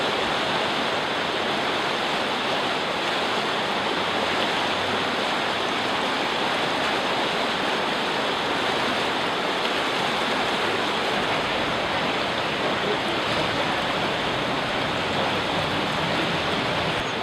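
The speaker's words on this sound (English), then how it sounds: "There's a raging river behind me." A raging river in Helen roars as a loud, dense, unbroken rush of water, close and steady with no pauses.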